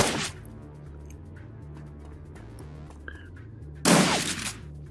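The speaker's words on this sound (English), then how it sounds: "Missed with the shotgun, luckily." A shotgun blast in the tactical RPG Shadowrun Dragonfall Director's Cut, one loud sharp burst near the end over a steady low game music bed, with a smaller crack just before it.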